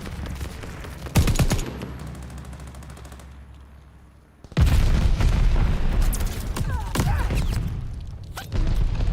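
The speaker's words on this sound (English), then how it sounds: "Friendly bombing run inbound." Bombing-run explosions and heavy gunfire in the Call of Duty Vanguard video game: loud booming blasts and rapid bursts, a lull, then a dense sustained barrage close up.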